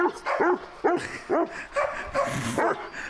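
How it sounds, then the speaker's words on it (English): A herd dog on a farm barks in a series of about six sharp, fairly close barks with short gaps, some with a whiny, yipping edge. "And then Toby's just barking"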